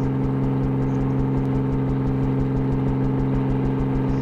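A video game helicopter rotor spins up in the construction sim Machine World 2: a steady mechanical drone with a rhythmic, pulsing beat over an engine hum, constant and fairly loud.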